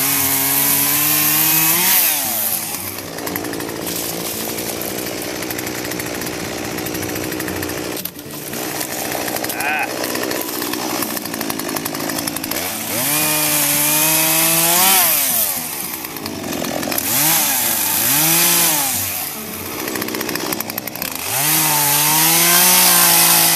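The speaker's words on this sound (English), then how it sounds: "Sometimes chainsaw gets to be just a little too much. It's loud, it's noisy, and it's dangerous" A chainsaw cuts cherry and persimmon branches for wood to build a chair, close and loud, with a whining engine that revs up and down in repeated cutting bursts and no talking.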